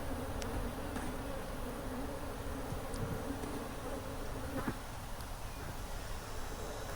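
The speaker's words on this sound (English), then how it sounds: "we're going to split bees so that Dustin can get his first set of bees" Honey bees buzzing steadily around an open hive during a colony split on a sunny December day outdoors, a dense continuous drone with occasional individual bees zipping close past.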